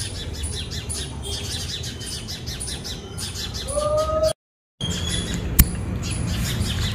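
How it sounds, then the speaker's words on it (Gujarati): Sparrows chirp noisily near a home, a busy overlapping chatter of short tweets and squawks, fairly close, with a brief dropout partway through and no speech. "ચકલીઓ દેકારો કરે।"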